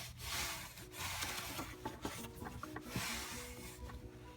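Cloth dampened with WD-40 dragged across the plastic case of an Atari 2600 console, a faint soft rubbing and scraping in repeated strokes over a low background hum.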